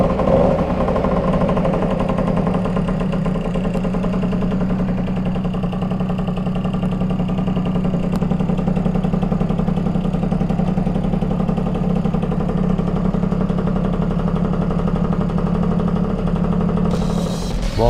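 A Motobecane moped engine fires up and settles into a steady, buzzing idle, loud and close, running on without a break and with no talk over it.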